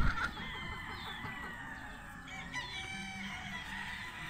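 Chickens, including fighting-breed gamefowl, cluck and call on a farm, with a rooster crowing in the mix, moderately distant and steady against outdoor background noise.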